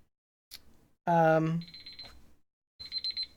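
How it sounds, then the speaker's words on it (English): A break timer alarm rings in two bursts of high, rapid beeping, separated by a short gap, with a person speaking loudly between them. "It's my break timer"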